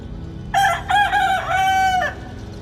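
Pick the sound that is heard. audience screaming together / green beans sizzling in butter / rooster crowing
rooster crowing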